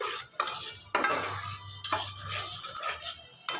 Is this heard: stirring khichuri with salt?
yes